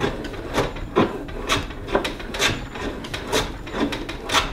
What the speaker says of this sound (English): it really gives you some good form as you rock back and forth when you're hand planing